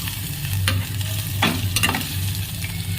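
A spoon stirs a pan of food frying with salt and turmeric, giving a steady close sizzle with a few scraping strokes over a low hum.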